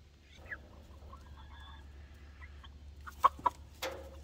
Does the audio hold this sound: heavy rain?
no